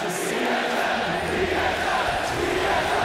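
A live esports arena crowd at a League of Legends Mid-Season Invitational semifinal, SK Telecom T1 versus Fnatic, gives off a sustained roar and cheering, loud and constant across the moment.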